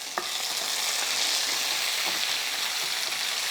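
Eggplant and tomatoes frying in a pan for vankaya biryani, a steady, dense sizzle throughout with faint stirring clicks, close and even, no talking.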